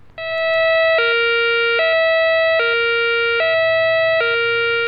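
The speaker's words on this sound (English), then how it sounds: "a special coma alarm will be sounded if there's a danger to the public." The COMAH major incident alarm at the Fawley site sounds as a loud electronic siren, switching between two pitches about every 0.8 seconds in a steady, unbroken cycle.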